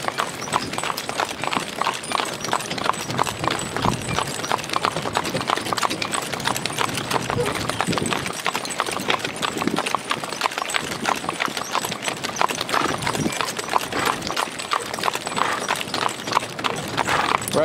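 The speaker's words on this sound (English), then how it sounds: "We're actually gonna take this corner at a trot, Jenna," A double team of horses pulling a driven vehicle, hooves clip-clopping in a continuous, steady rhythm up close, with only faint hints of voices.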